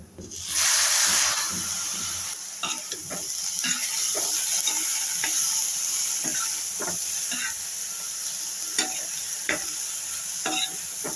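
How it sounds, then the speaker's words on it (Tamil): Cluster beans and lentils for paruppu usili sauté in a pan, opening with a loud burst of sizzle and hiss that settles into a steady fry, punctuated by rhythmic scraping stirs and spatula taps. "நல்லா மூடி வச்சு மூடி வச்சு வதக்கி நல்லா உதிரியாக ஆகிற வரையும் வதக்கணும்"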